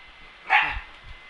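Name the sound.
dog barking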